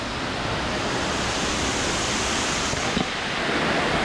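Lusno Falls in Oslob roars as a steady, broadband rush of falling water, constant and dense throughout with no pauses, close enough to fill the whole scene.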